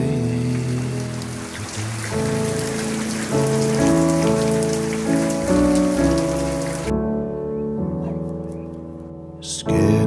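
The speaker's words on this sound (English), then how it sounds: "I think it's going to rain" Steady rainfall hisses as a dense, continuous wash over a tonal musical backing, then cuts out abruptly near the end.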